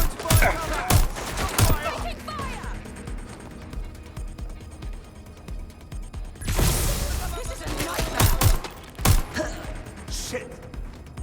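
Gunfire in the video game Watch Dogs Legion comes as several sharp bursts and volleys spread through the clip, with a voice speaking between the shots.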